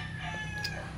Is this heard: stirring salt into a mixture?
no